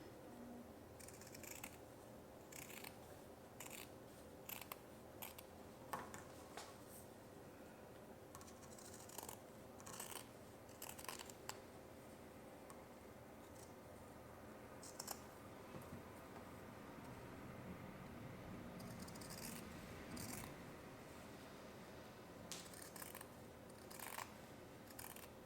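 Scissors snip through fabric for a homemade face mask, quiet close crisp cuts coming in irregular clusters with short pauses between them.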